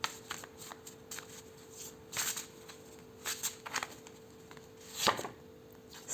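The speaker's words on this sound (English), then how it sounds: "So I'm gonna pull some more extra cards for you here." Tarot cards being pulled and shuffled by hand, quiet close riffles and soft slaps in short separate bursts against a faint steady hum.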